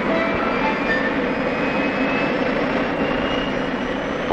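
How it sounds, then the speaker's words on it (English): Boeing 707 jet airliner engines from around 1959, a loud, steady roar with a broad whine that holds unbroken throughout, no voices over it. "Its power, it's the simplest aircraft engine ever devised."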